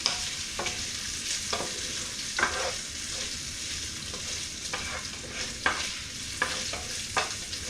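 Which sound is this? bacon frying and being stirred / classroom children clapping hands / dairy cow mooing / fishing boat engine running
bacon frying and being stirred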